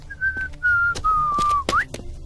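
A man whistles a carefree tune alone, three sustained melodic phrases close to the ear followed by a quick upward slide, with light footsteps or rustle between notes.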